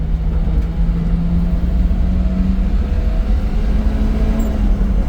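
A Subaru Sambar crane truck engine pulling through the gears on the road, a loud, steady droning rumble with a rising whine, heard from inside the cab.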